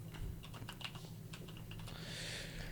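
Close, rapid clicking of keys on a computer keyboard in irregular bursts for about two seconds, then a steady hiss with fewer clicks.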